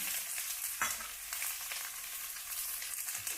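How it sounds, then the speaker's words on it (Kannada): Capsicum and green chillies fry in oil, a soft steady sizzle with an occasional stirring clink, quiet and close with no voices. "ಹಸಿಮೆಣ್ಸಿನ್ಕಾಯಿ ಸ್ವಲ್ಪ ರೋಸ್ಟ್ ಆಗಲಿ ಈ ಥರ ಹುರ್ಕೊಳ್ಳೋಣ ಎಣ್ಣೆ ಒಳಗೆ"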